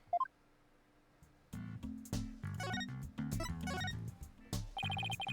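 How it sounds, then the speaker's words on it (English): A telephone rings in the Apollo Justice Ace Attorney video game: a short electronic chirp, then a loud patterned ringtone melody repeating several times, with no talking. "Who was that phone call from?"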